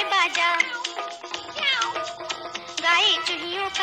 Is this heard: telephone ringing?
no